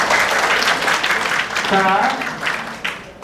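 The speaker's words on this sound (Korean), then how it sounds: "세 분께 큰 박수 부탁드리겠습니다." Crowd applause at a real estate sales presentation held in Orange County, a brief burst of clapping from the audience while a host's voice speaks over it.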